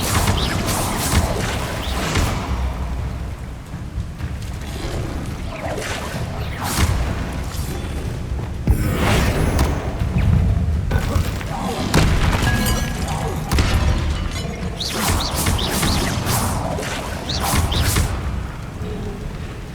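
Bombarda spell explosions in Hogwarts Legacy, with repeated booming blasts and thuds over busy game action and music, recurring every few seconds at steady loudness.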